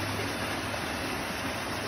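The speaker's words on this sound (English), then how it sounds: "this is a river. I think we have our own backyard river." A small backyard river flows steadily in a continuous broadband rush of water, fairly close and constant, with no voices over it.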